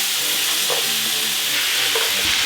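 Onion and carrot pieces sweat in a hot pan as they are turned over, giving a steady, close sizzle with soft scraping stir strokes and no voices.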